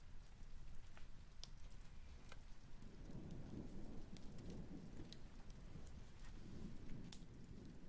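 Steady rain pours down alongside rolling thunder, with scattered sharp cracks and low rumbles. The storm ambiance is faint and continuous, and no voices are heard.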